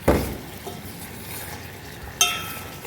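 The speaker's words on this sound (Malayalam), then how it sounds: "ഇളക്കിയില്ലെങ്കിൽ കട്ടയായിപ്പോവും, അതുകൊണ്ടാണ് ഇളക്കിക്കൊണ്ടിരിക്കുന്നത്." A spoon stirs a thickening peda mixture in a pan, with two distinct scraping clinks against the metal separated by a soft, steady sizzle from the cooking.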